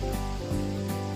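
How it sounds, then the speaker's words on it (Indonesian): Chicken pieces fry in hot oil for a rica-rica dish, a steady close sizzle and hiss with a low rumble underneath, brief and continuous. "Kemudian kita ulangi step ini hingga seluruh ayamnya selesai digoreng."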